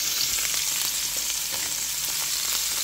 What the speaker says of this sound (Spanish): Empezamos a dorar el queso.